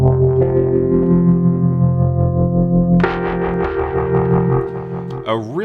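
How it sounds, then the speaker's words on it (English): Colombian Keys, a lo-fi phasery electric piano patch built in the Reason 11 rack, plays sustained swirling chords with a distorted, chorused shimmer, shifting to a new chord midway and ending in a warbling pitch-bend. "The next sound is Colombian keys, which sounds like this."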